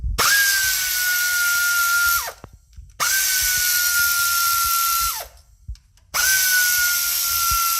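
A power tool whines in three bursts of about two seconds each, separated by brief pauses, loud and close while undoing ignition coil bolts on a 2008 Toyota Camry engine.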